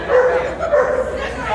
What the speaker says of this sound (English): The dog is not happy that you did not